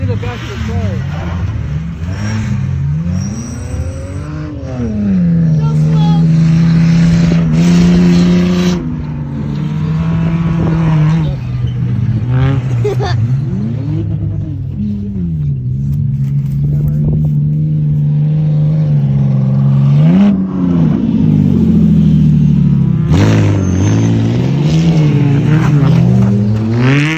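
Rally race car engine revving hard through gear changes, its pitch repeatedly climbing and dropping as it drives past nearby at a rally race, with loud sustained roaring and people talking.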